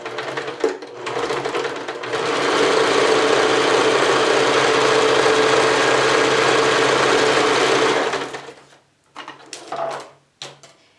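An electric sewing machine stitches fabric for a thermal therapy cushion, starting with short bursts and then running as a steady, loud, even whir for about six seconds. It stops, followed by a few brief handling noises.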